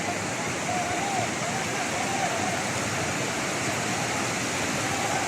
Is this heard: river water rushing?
yes